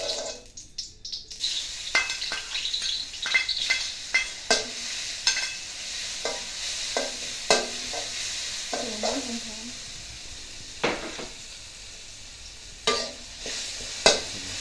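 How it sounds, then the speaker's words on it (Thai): Chili and garlic frying in oil in a pan on a stove for a clam stir-fry with roasted chili paste, a steady sizzle broken by repeated clinks and scrapes of stirring, fairly close and with no talk. "น้ำมันครับผมลงเตาเลยครับ ตามด้วยพริกกระเทียมครับผม"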